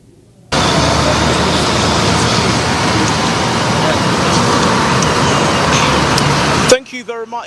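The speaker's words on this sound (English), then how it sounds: "That is at the Farewell Traffic Lights Junction, definitely observing the traffic atmosphere around this very area." Road traffic flows through a signal-controlled junction, heard as a loud, continuous wash of engine and tyre noise from passing cars and heavier vehicles, ending abruptly as a voice begins speaking.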